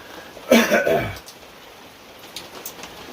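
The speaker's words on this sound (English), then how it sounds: "it's raining outside" Light rain falls outside as a soft, steady patter, broken early on by a short, loud cough-like vocal burst close to the microphone before the gentle rainfall carries on alone.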